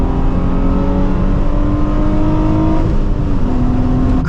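Nissan 350Z with a manual gearbox pulling hard at full throttle in third gear, a loud steady engine drone rising in pitch, heard from inside the car with road noise underneath.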